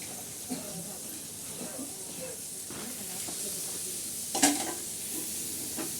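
Green chilies and garlic frying for thecha on an iron griddle over a wood-fired stove, a low steady sizzle with occasional stirring scrapes and a brief sharp hiss near the end, heard up close.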